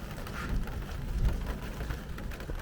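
Steady rain falling during a thunderstorm, a dense close patter on surfaces with a low rumble underneath, continuous and moderately loud.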